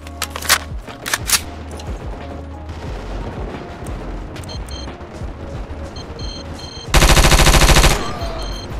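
Gunfire from a new gun in a Battlefield 2 mod video game: sharp single shots and bursts early, mechanical handling sounds, then a loud sustained automatic burst lasting about a second, close and punchy.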